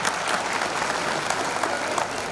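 A crowd applauds warmly at a municipal honouring ceremony for sanitation workers in Udaipur, steady dense clapping filling the hall without voices.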